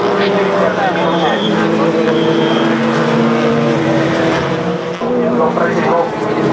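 Touring race cars, BMWs and SEATs, roar past at the Slovakiaring during a European championship race, a steady loud engine drone with shifting pitches, heard under continuous commentary.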